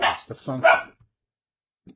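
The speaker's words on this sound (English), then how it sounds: "excuse the barking dog" A dog barks a few times nearby while someone speaks over it, then a brief faint bark follows after a pause.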